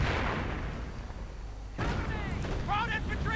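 Mortar bombardment in a World War II-style multiplayer shooter game: a heavy, rumbling blast opens the moment, followed by a fresh burst of booming impacts and crackling gunfire, with voices chattering over the din.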